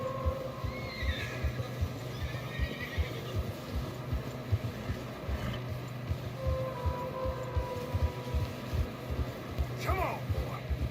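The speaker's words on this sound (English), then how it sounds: "Horses are struggling." Horses laboring through deep fresh snow on a narrow path in the video game Red Dead Redemption 2, with snorts, a whinny and steady plodding hoof thuds, while people talk.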